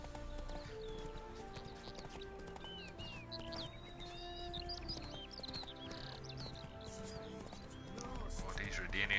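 Roach the horse's hooves clip-clopping in The Witcher 3, steady rhythmic hoofbeats under game music and ambient birdsong, with speech in the background.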